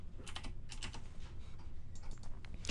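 Fingers type quickly on a computer keyboard, a close, continuous patter of soft key clicks with no talk.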